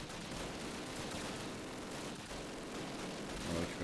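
Dense, continuous gunfire from Call of Duty (2003), a Normandy campaign battle with rapid overlapping shots and distant explosions forming a rough, unbroken roar at fairly low level.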